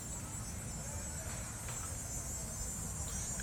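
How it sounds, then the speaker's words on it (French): A cicada buzzing outdoors on a fine day, a steady, unbroken high-pitched drone that stays at an even level throughout over faint low background noise. "La cigale se fait aller."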